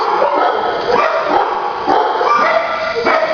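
Chrissy, a high-energy 50-pound shelter dog, barks and yips repeatedly over a busy, noisy background, with whimpering mixed into the close, loud barking.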